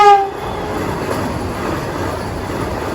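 A train passes a railway level-crossing gate, its horn blaring briefly at first and then fading into a steady rumble of rolling cars.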